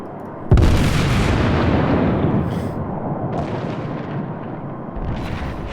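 A battleship's heavy guns fire in World of Warships, New Mexico class, as one sudden loud boom that rolls into a long rumbling decay, with later softer distant blasts and no talking.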